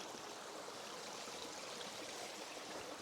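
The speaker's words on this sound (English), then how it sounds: "this little trickle here can be really, really fast flowing, but the main stream is over here" A small stream trickles and flows over stones on a Peak District walk near Ashford in the Water and Monsal Dale, giving a steady, close, broadband rush of water with no voices.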